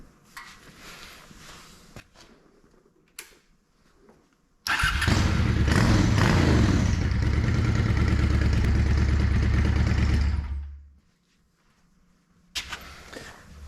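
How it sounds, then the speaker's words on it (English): A 2007 Honda Shadow VLX 600 (VT600C) motorcycle engine fires up and runs loud and steady at idle for several seconds, then cuts off into near silence. "now we're going to fire the bike up and let it run for another minute"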